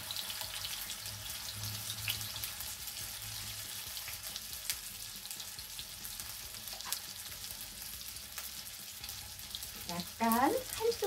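Tofu fries in two spoonfuls of oil in a frying pan with a quiet, steady hiss throughout, followed at the end by a brief louder clatter and shifting as the pieces are pushed aside.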